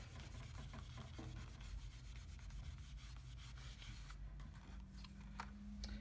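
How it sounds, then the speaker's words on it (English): A stamped image is rubbed firmly onto a card panel, making a soft, continuous close scraping and rubbing texture with a low background hum and a few faint ticks near the end. "Holding it firmly, we're going to rub it"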